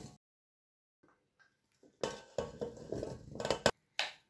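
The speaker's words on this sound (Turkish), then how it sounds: "Şimdi zeytinlerimi bu tuzun içerisine dolduruyorum." Dried black olives poured into a pot over a layer of salt, giving rattling, clattering bursts of olives and salt grains against the pot after about two seconds of near silence, close and fairly loud.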